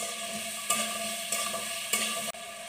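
Cumin, green chili and onion sizzle in a pan for a Bihari adauri aloo sabzi. A steady close frying hiss is broken by three sharp stirring clacks, with no talk.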